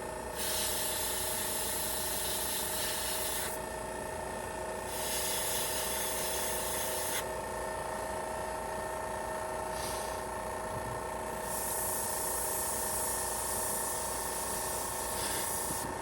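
Steady airbrush hiss as paint is sprayed onto an old shirt, in repeated bursts of a few seconds each, with brief pauses between, close and fairly loud over a constant low hum.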